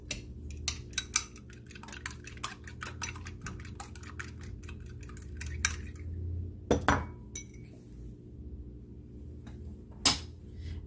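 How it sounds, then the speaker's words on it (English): One egg being whisked for an egg wash on a beef pot pie: rapid, close clinking of a utensil against a bowl in uneven bursts, with a few sharper knocks and brief quiet gaps, no talking. "we're just going to whisk one egg here"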